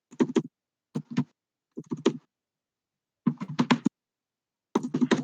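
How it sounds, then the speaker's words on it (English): Bursts of typing on a computer keyboard, short clusters of quick clicky keystrokes separated by silent pauses, close and fairly quiet. "It's great because I can just hear her typing."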